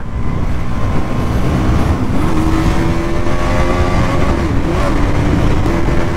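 A motorbike rides through a tunnel on the road out of Jammu toward Udhampur, its engine droning loud and steady with rising and falling pitch over a heavy rumbling roar of wind and echo.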